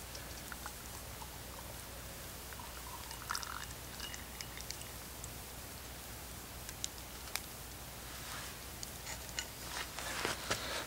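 Hot birch bark oil pouring from a can into a cold glass jar, a steady trickling patter with small drips and clinks, fairly quiet and continuous with no talking.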